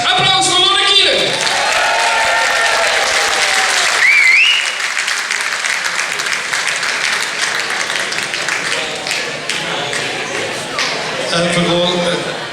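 A crowd at a carnival song contest prize announcement applauds a third-place winner, loud sustained clapping with occasional shouts and cheers, while an announcer speaks over it.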